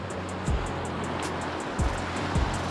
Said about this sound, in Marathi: पूर्ण लाटा येते समुद्राच्या